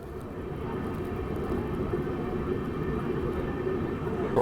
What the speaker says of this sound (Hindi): ट्रेन नंबर 22606 का departure from Bankura junction railway station.